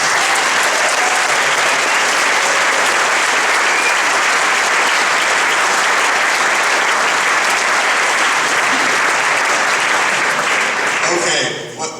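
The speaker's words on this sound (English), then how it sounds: "Once again, make some noise for Jeff." Sustained, dense applause with cheering from a large keynote audience at a Scrum Day conference in Germany, loud and steady for nearly the whole stretch before tapering off abruptly near the end.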